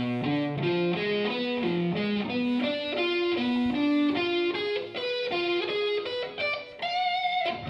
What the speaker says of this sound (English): there's this scale which is a really evil sounding scale called the diminished scale